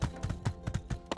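Horse hooves clip-clop in the video game My Time at Sandrock, a brisk run of sharp, close footfalls in an uneven trotting rhythm, about ten distinct strikes, with no voices.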